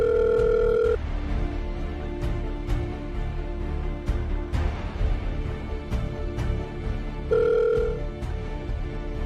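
A telephone rings out and nobody answers. A ringback tone sounds near the start and again near the end, with a low hum and scattered clicks and taps in between.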